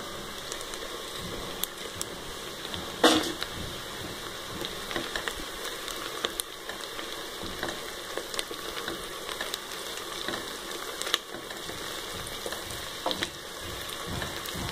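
Green chilies fry with browned onions in hot oil for brinjal biryani, making a continuous close crackling sizzle broken by occasional stirring knocks, with no one speaking.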